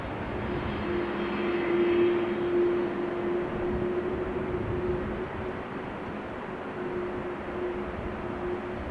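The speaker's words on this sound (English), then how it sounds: "Quite clearly audible. KLM A330." Airbus A330 jet engines of a KLM airliner at Amsterdam Schiphol on a showery, windy day make a steady, moderately distant roar with a thin whining tone running through it. The sound holds throughout with a slight swell early on.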